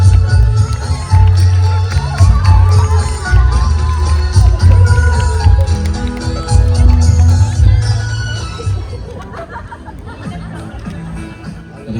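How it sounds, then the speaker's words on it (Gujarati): A large crowd at a wedding dandiya night cheers and claps loudly and continuously, a dense roar of voices and applause that slowly fades toward the end. "માટે જોરદાર તાળી"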